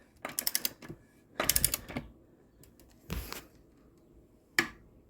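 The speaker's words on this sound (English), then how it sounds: "it'll make like a little pop noise, like a clicking noise" A torque wrench clicks sharply as it reaches 77 foot-pounds on the rear wheel of a 2023 Yamaha XSR 900, giving several crisp clusters of close mechanical clicks separated by quiet pauses.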